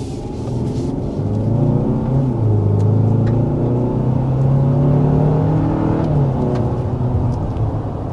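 A 2024 Hyundai Santa Fe accelerates up to about 60 mph, its engine note rising through gears with a steady rumbling drone and whirring road noise heard from inside the cabin.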